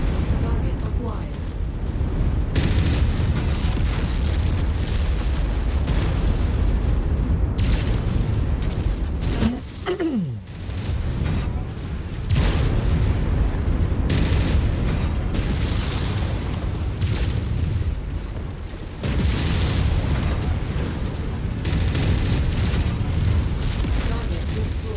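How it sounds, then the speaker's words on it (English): Airstrike explosions in the Mechwarrior 5: Mercenaries video game: loud, rumbling booms in several heavy waves over dense, continuous battle noise, with brief dips between the blasts. "I was hoping the airstrikes would be a bit more efficient"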